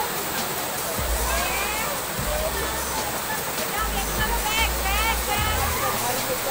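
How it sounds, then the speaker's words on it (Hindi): Dudh Dhara waterfall at Amarkantak, Madhya Pradesh, roars as a steady rushing hiss of falling water, with intermittent low rumbling gusts beneath it. "ये यहाँ से आगे बढ़ के ये नीचे की ओर चली जाती है पानी।"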